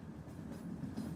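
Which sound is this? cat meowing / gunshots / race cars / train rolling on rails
train rolling on rails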